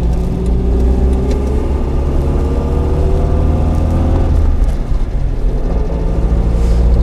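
An FSO Polonez car's engine drones steadily while driving, heard from inside the cabin as a loud low hum with mid-range whir, shifting slightly in pitch partway through as the car keeps moving, with no voices.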